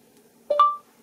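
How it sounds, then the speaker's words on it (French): A single short electronic beep from a VoxiOne device's microphone, two quick rising tones, clear and alone against near silence. "après le bip du micro"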